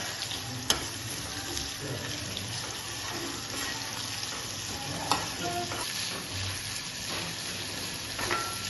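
Chicken chukka being cooked in a frying pan with coconut oil and garlic, a steady close sizzle with faint scraping and a few sharp clicks, no voices.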